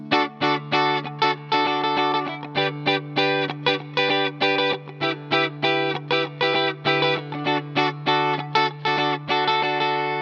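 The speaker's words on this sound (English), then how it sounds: "You could take those chords and do what I call inverting them up the neck" Electric guitar chords strummed in a fast, steady rhythm with distorted, effect-laden tone, played alone and loud.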